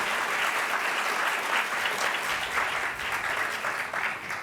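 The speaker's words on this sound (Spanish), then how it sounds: "Entonces vamos a dar un aplauso para ir calentando a Susana." Steady audience applause at a series preview screening, dense rapid clapping of moderate loudness that holds throughout and eases slightly at the end.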